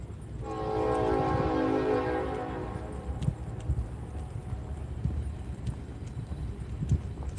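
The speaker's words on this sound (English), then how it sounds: "You hear that train?" A train passing at night in New Orleans sounds its horn in a long sustained blast at a distance, fading into a low rumble of rail cars with faint intermittent clanks.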